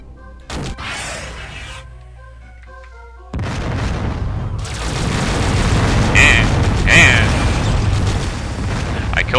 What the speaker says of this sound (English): I killed you with a flash missile.